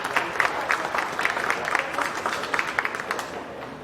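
Audience at a county fair beef show applauds exhibitors and their heifers, a steady crowd clapping that holds at moderate loudness throughout, with faint voices mixed in.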